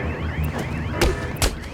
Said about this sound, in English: We've set off an alarm.